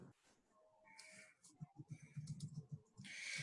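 Rapid keystrokes on a computer keyboard, a quick run of close clicks typed in bursts during an online session, with faint background voices and a brief click at the end.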